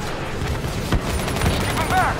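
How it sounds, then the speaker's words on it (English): Gunfire in Call of Duty Black Ops 3 during a mission battle against multiple targets, with scattered bursts of shots and booms mixed among game voices and effects. "Concentrating fire on multiple targets"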